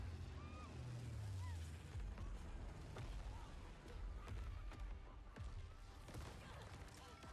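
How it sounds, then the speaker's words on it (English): Explosions boom through a Call of Duty video game trailer, deep rumbling blasts and debris rolling under a dense battle soundscape, steady and loud with a person talking over it. "I love how all these explosions are happening."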